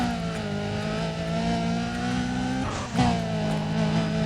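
A race car in Need for Speed Undercover holds a loud, sustained engine drone during a sprint race, pitch rising gradually, then dips briefly around a gear shift before surging again.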